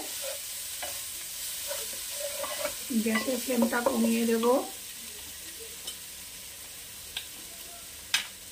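Capsicum with turmeric and coriander powder sizzling in a pan, a soft constant fry noise with a burst of stirring and scraping in the middle, and a person speaking briefly over it.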